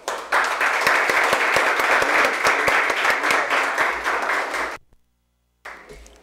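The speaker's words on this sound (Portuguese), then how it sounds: "E eu quero pedir, então, agora uma salva de palmas" Applause fills a municipal council chamber during a session, a sustained round of clapping from many people that fades out, followed by a short silence before room sound returns.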